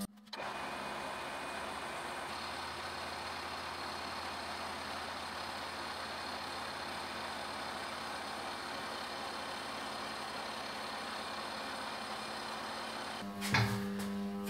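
A mini lathe makes a second cutting pass along its own bed, giving a steady, even motor whine and hum that holds unchanged before ending in a brief clatter.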